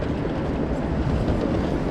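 A train running on the rapid service line toward Sapporo station, a steady low rumble of the carriage rolling on rails with continuous broadband noise throughout, heard from inside the car with no voices.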